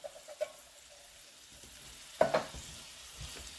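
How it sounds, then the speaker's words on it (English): Callaloo being stirred in a frying pan for Jamaican callaloo and salt fish, giving soft scraping and sizzling with a few sharper utensil knocks, one louder clatter partway through, close and fairly quiet. "Go ahead and mix that around."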